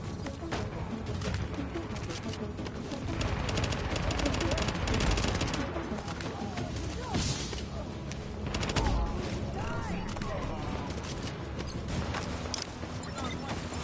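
Sustained bursts of video game gunfire in The Division, rapid rattling shots coming in waves across the clip without pause, dense and fairly loud, with a player's voice talking over parts of it.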